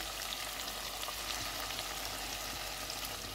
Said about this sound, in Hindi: इसमें फेंटा हुआ दही डालेंगे